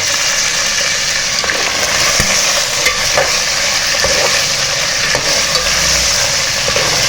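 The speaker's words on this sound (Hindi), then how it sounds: "चिकन इस तरह से हमारा ज़बरदस्त फ्राई हो गया" Chicken fries in a covered pot over a low flame for a karela gosht curry, giving a steady, loud sizzle with occasional stirring clinks and scrapes and no voices.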